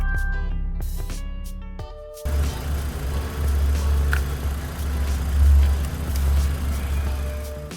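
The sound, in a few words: Kia Cerato Forte engine started and idling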